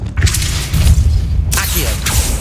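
The Depulso spell is cast in the Hogwarts Legacy video game, giving a loud, booming magical blast with a whooshing swell and a second burst of crackling impact, heard up close.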